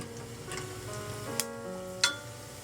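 Cumin seeds sizzle steadily in hot oil in a pan for an Indian moong masoor dal, with a constant crackling hiss, faint tonal hum underneath and two sharp clinks near the end.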